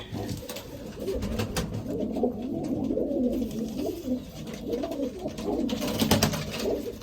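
Soft, repeated cooing of pigeons with young chicks close by, a steady low murmur of overlapping calls with faint rustling and no talking.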